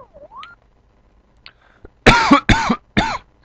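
Three loud, harsh coughs in quick succession from a person close to the microphone, following a few quiet electronic game tones from Brutal Super Mario World.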